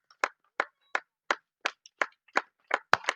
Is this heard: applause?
yes